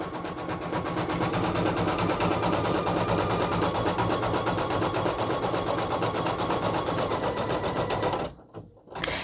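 An embroidery machine stitches black thread onto green fabric, its rapid, even needle chatter running loud and close before stopping abruptly near the end, with a couple of faint clunks after.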